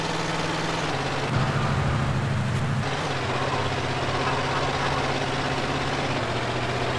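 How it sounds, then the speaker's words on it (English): An old van engine in GTA San Andreas, running on old cooking oil with a battered engine block, drones at a steady low idle-like rumble throughout, close and constant with no talk. "The engine block is held together with a macrame hammock and it's running on 15-year-old cooking oil"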